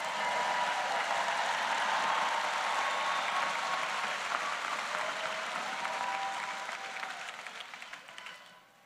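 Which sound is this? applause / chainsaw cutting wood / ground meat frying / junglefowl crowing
applause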